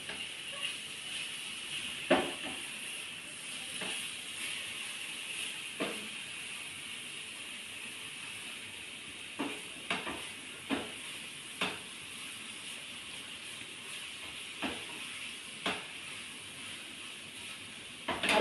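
Banana pieces frying in a pan for an evening snack, a quiet steady sizzle punctuated by soft clicks and scrapes of stirring at irregular intervals.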